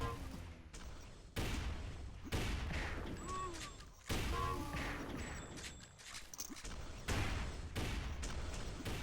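Rifle and weapon fire from a duel on the map Effic in a competitive shooter match: repeated sharp, loud gunshot bursts and crashes in irregular clusters, with game effects sounding between them.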